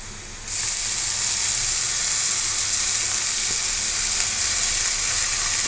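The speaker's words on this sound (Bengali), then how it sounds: "কুচিগুলো ভালোভাবে ভেজে নিতে হবে নাহলে পরে কাঁচা থেকে যাবে" Chopped onion pieces frying in a pan give a loud, steady, close hiss and sizzle that jumps up suddenly near the start and holds evenly throughout, with no voices.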